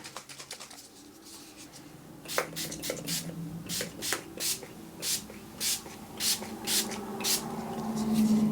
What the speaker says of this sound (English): I'm going to go ahead and set everything with a makeup setting spray